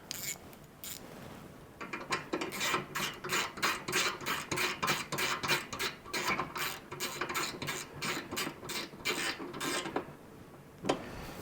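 A handle screw is driven back into a Morso 7110 cast-iron wood stove, making a close run of rhythmic ratcheting clicks and scraping turns that repeat for several seconds, then stop.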